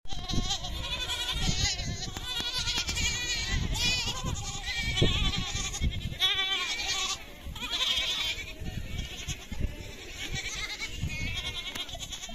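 Goats and kids bleating repeatedly and overlapping, a busy herd of about 90 goats close by with steady calls throughout.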